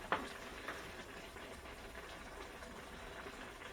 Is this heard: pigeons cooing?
no